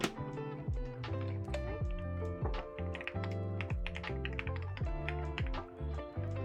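Steady typing on a Class65 v3 mechanical keyboard fitted with GMK Serica R2 keycaps, a dense run of close, crisp clacking keystrokes at an even pace.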